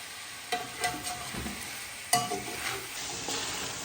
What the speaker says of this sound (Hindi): अब हम इसमें अपने स्पाइसेस ऐड कर लेंगे और इनको अच्छी तरह से भून लेंगे।